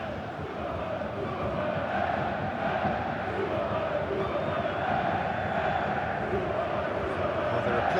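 Stadium crowd noise from the eFootball 2022 football video game before kickoff at a packed venue: a steady, dense roar of a capacity crowd that holds even for the whole stretch, with no clear speech.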